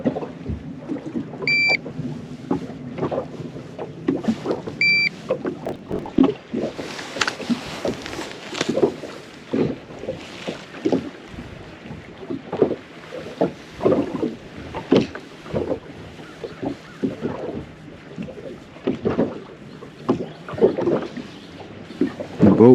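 A fishing boat moving across Lake Eufaula, Alabama during a hunting club bass tournament, with steady hull and water wash, wind buffeting the microphone and scattered knocks throughout, continuous and fairly close.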